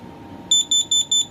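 Four short, shrill electronic beeps from a Kidde Nighthawk KN-COSMXTR-B smoke and carbon monoxide alarm's piezo, in a quick even rhythm, piercing and close, over a faint steady hum.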